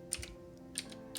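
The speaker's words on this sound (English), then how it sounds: "press Windows R and type in" Quiet keystrokes on a computer keyboard while entering a Windows command, with three or four soft, separate clicks over a faint hum.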